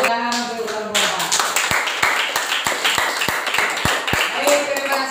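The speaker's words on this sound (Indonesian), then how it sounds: "Tepuk tangan untuk kelompok 4." Rhythmic group clapping for a student team in a classroom during an Islamic religious education lesson: about eight sharp, evenly spaced claps over a busy room with voices talking.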